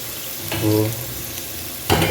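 Sliced onions fry for kushka biryani in a pan, a soft steady sizzle close by with a couple of brief stirring scrapes.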